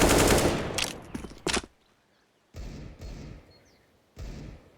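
Desert Eagle pistol fire in a Counter-Strike match on the Inferno map, sounding as a loud, dense burst of gunshots followed by three separate single shots with short gaps between them.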